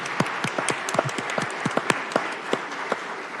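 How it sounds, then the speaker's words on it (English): A city council meeting audience claps for a group of summer interns, distinct individual handclaps from a modest number of people ringing out in an uneven patter, fairly close in a quiet room with no talk. "you can give them a round of applause"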